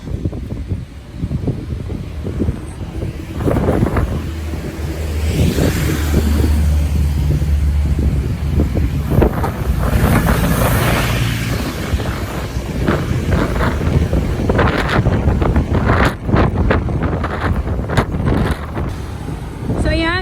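Strong wind buffeting the microphone in a steady low roar while walking uphill on Braemar Hill, with footsteps and occasional voices under it outdoors.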